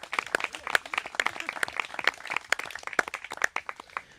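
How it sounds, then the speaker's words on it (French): A small audience at a talk claps for a guest, scattered individual hand claps with irregular sharp attacks at moderate volume and no talking over them. "on l'applaudit tout de suite"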